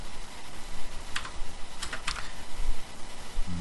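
Computer keyboard keys being typed on while building a Z80 homebrew computer, with short bursts of clicks in quick clusters against a steady room hiss, close by and moderately loud.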